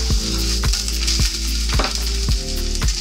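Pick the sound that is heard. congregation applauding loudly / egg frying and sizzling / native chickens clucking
egg frying and sizzling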